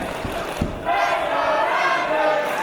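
A wrestling crowd at a British Championship match cheers for Mark Andrews, a sustained roaring swell of many voices that rises and holds, with a commentator talking over it at the start.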